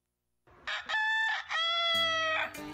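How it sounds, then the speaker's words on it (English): A rooster crows once, a loud, close cock-a-doodle-doo in several rising and held harmonic bursts lasting about two seconds, alone after a brief silence. "Hey, Yvonne, do you know what Tony the Rooster is telling you?"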